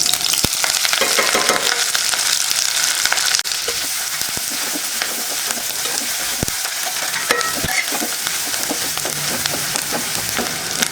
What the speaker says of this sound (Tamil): கடுகு பொரிஞ்சது வெங்காயம், பச்சை மிளகாய், கருவேப்பிலை 3 சேர்த்துக்கலாம்.